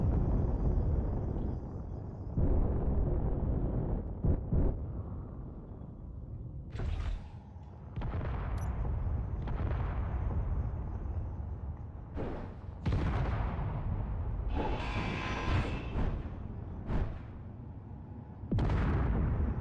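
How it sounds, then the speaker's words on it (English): Heavy gunfire and explosions in the Space Engineers video game: deep, rumbling blasts and roaring bursts that come and go with sharp onsets, loud and dense, some hissing, ringing tails between impacts. "Stop shooting, guys."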